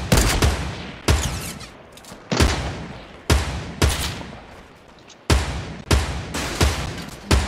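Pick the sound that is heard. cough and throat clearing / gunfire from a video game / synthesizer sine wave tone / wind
gunfire from a video game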